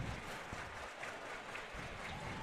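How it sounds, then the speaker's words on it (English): Steady hand clapping from a crowd in the stands at a college baseball game between the Pioneers and the Power, a fairly faint, continuous patter with no voices standing out. "As everyone clapping their hands now."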